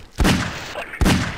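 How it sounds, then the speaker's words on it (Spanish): Two loud, booming shotgun blasts from Garry's Mod, about a second apart, each with a sharp thump and a short noisy tail. "das clic derecho con la escopeta, haces un disparo"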